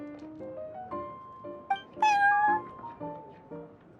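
Prince, a cat in the Genshin Impact game, meows several times in short rising calls, one louder drawn-out meow in the middle, close and clear over a faint background.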